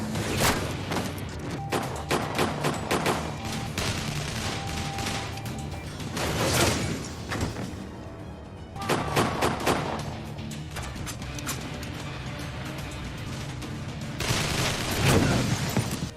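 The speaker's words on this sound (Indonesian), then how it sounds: "Di sana Ray menggunakan sniper kaliber 50-nya." Heavy gunfire from a .50 caliber sniper rifle in a film action scene: a long run of loud, sharp bangs in clustered volleys with brief lulls between, layered over a dense cinematic soundtrack.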